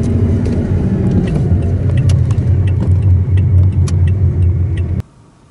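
A car rolls slowly into a parking space beside a fishing harbour, its engine rumbling low and steady nearby until it cuts off abruptly near the end, leaving near silence.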